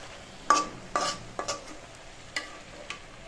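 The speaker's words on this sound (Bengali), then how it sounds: "এখন এভাবে ভালোভাবে নেড়ে ছেড়ে দিব।" Cabbage frying with spices is stirred in a pan, about half a dozen distinct scrapes and clinks of a utensil over a faint sizzle, close and moderately quiet, with no voices.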